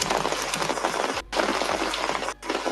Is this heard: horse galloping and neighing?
no